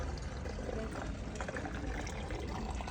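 Water pours steadily into a portable camping shower tank, a continuous soft gushing and splashing that stays fairly quiet and even throughout.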